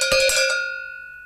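A single cowbell is struck several times in quick succession, bright metallic clanks that then ring out and fade slowly, loud and close with no voices.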